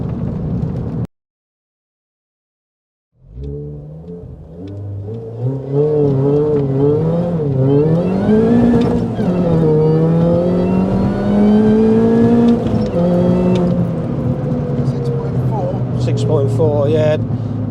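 A modified Mini Cooper R53 launches hard after a brief silence, its supercharged engine climbing loud through rising revs with a wavering pitch as the tyres spin, then settling into a steady drone.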